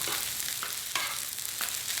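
Thai three-colour fried rice sizzles quietly in a wide hot pan, with occasional scraping strokes of a spatula as it is stirred and tossed.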